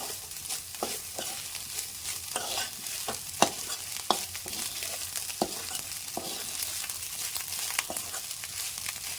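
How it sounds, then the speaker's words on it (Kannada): Vegetable fried rice is stirred in a pan over high heat, with a spatula scraping and tossing in irregular strokes over a constant close sizzle. "ದೊಡ್ಡ ಉರಿ ಇಟ್ಕೋಬೇಕು, ಉರಿ ಸಣ್ಣ ಮಾಡಬಾರ್ದು. ಸರಿಯಾಗಿ ಮಿಕ್ಸ್ ಮಾಡಬೇಕು."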